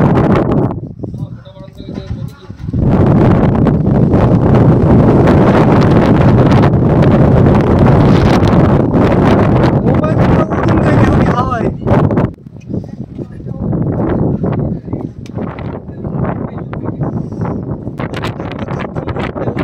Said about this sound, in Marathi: मोठ्या प्रमाणात हवा.